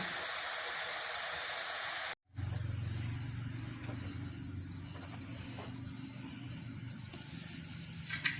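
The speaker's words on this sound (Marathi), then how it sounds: "आता ही डाळ पण आपल्या छान अशी तळून घ्यायची आहे" Lentils fry in hot oil for a crab curry with a continuous bright hiss and sizzle. It cuts out briefly, then returns steady with a low hum beneath.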